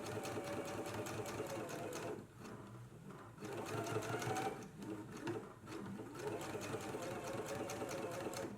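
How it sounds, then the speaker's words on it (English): A sewing machine runs top stitching along the curved edge of a girls' and misses' dress, its rapid needle clatter steady and close, pausing briefly twice and resuming, with talking over it. "Let's go ahead and do a top stitch now all the way along the curved edge here."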